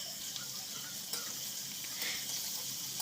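Chopped onion and crushed garlic fry in oil with whole cumin as they are stirred, a steady close sizzle running throughout with light scraping from the stirring.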